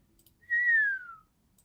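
A person whistles to imitate a marmot's call: one clear, sliding, falling whistle lasting about half a second, heard alone against near silence.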